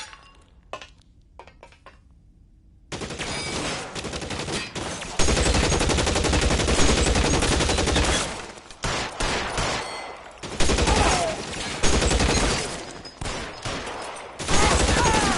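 Sustained gunfire in the video game L.A. Noire, a loud, close barrage of rapid shots in dense bursts with brief gaps, and metallic clinks mixed in.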